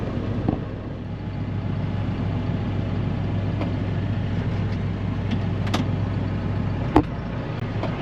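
A tractor pulling a tedder rolls forward with the clutch pushed in, giving a steady, close low engine rumble with a couple of brief clanks and knocks.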